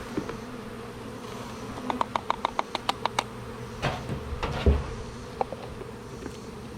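Honey bees buzz around an open hive during a varroa mite check, a soft steady hum close by with a string of sharp ticking taps and a few brief louder bumps.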